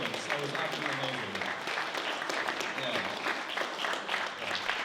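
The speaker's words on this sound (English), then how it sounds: "I think he deserves a round of applause for that awesome, that epic performance" Audience at a film premiere applauds loudly and continuously, a dense wash of clapping with voices talking and cheering underneath.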